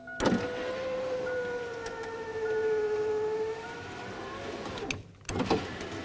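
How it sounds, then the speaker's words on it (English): A Chevy S-10 power window motor runs on a test bench with its switch, giving a steady whining hum that shifts pitch as the glass travels. The hum stops briefly near the end, then a short clunk and the motor starting again. "plugging in our window motor, and then also plugging in the switch and testing the window"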